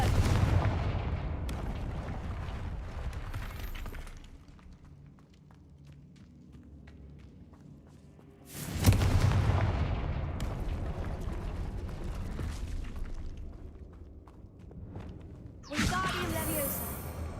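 Confringo blasting spells in Hogwarts Legacy go off as three heavy booms spaced several seconds apart. Each blast has a rumbling tail that fades slowly, and voices are heard between them.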